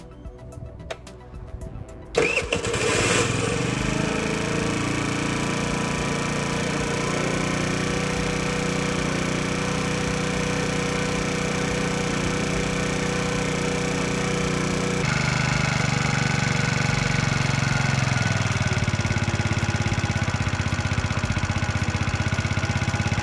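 A used scooter's small engine starts after a brief rattle and then runs steadily, idling with a buzzing drone that grows slightly louder partway through.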